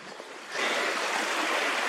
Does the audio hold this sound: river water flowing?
yes